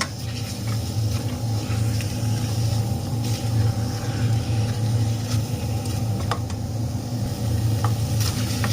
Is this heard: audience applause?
no